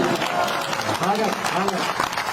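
Loud clapping from an audience at a village gathering, a brisk wash of hands with voices calling over it and a speaking voice cutting in briefly.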